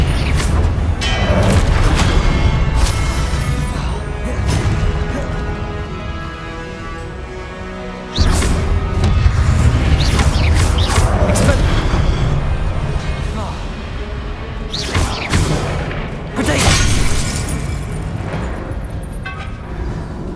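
Booming fire and blast spells in the Hogwarts Legacy game during the Percival Rackham trial, heavy rumbling explosions that swell and recur over twenty seconds, loud and dense, with a voice speaking now and then.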